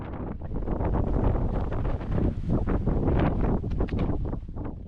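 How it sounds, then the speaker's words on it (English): Strong wind buffeting the microphone on an exposed hilltop trail near old pillbox ruins on Oahu, a loud, continuous roaring rumble with gusty surges throughout. "the wind was in full blast"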